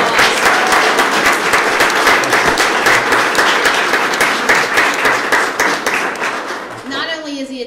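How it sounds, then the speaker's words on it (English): Applause from an audience at a police department mural unveiling ceremony, dense steady clapping filling the space for several seconds before tapering slightly at the end, with a few voices underneath. "Let's give them another round of applause."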